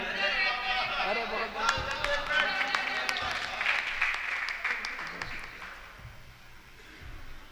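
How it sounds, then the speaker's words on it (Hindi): An audience claps at an Urdu poetry recital (mushaira): a dense burst of applause with scattered sharp claps and crowd murmur, tapering off toward the end. "लेकिन इससे अगले पे तालियां ज्यादा मिलेंगी"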